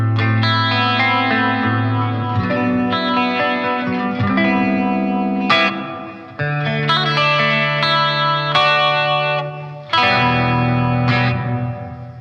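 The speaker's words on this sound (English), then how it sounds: "So that's a good amount of reverb and chorus." Electric guitar chords through a Fender Champion 50XL amp ring out with lush chorus shimmer and long reverb tails, strummed in separate phrases with brief decays between.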